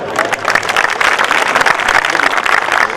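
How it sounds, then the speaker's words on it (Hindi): Dense applause from the audience at a Hindi kavi sammelan poetry gathering, steady, loud clapping filling the room for about three seconds without pause. "तो आप सभी लोग इंसान हो, तो अपने लिए चाहता हूं मैं तालियां एक बार संप्रेषित कर दूं"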